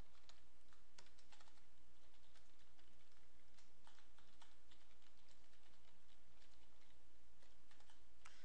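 Steady, fairly quiet typing on a computer keyboard as C++ code is entered, dense key clicks running continuously for several seconds over a low background hum, with no one talking.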